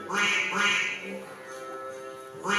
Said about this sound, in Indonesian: ia melihat seekor angsa putih